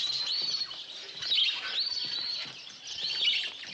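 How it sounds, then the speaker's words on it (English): Small caged finches in a pet shop chirp and twitter constantly, high, bright calls overlapping in a busy chorus with no talk. "Aren't those lovebirds?"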